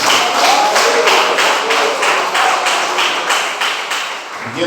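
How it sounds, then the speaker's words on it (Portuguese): Congregation in a Filadélfia church clapping for Jesus, a dense, loud burst of many hands in a steady, roughly rhythmic beat that carries on for several seconds, then thins out at the end. "Cadê as palmas para Jesus?"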